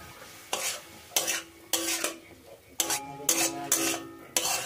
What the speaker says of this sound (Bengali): এখন মশলার সাথে সবজিগুলো ভালো করে মিশিয়ে নেব।